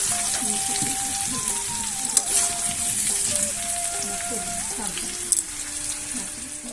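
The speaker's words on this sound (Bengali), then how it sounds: "তার জন্য আলুটা ভাজতে বসিয়ে দিয়েছি।" Potatoes frying in a pan give a loud, steady crackling sizzle that runs throughout, with a few sharper pops and faint background tones underneath.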